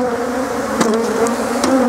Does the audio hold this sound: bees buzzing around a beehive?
yes